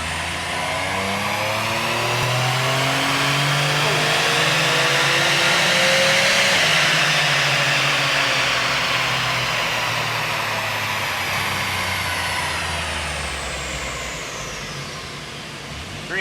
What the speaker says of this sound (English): Same pull, 2 degrees of timing.